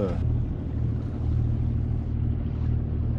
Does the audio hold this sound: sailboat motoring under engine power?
yes